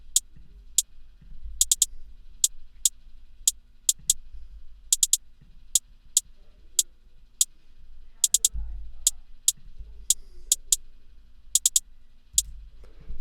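Crisp hi-hat hits from an FL Studio pluggnb-style beat, sharp ticking in a sparse, uneven programmed rhythm with occasional quick rolls over a faint low bed.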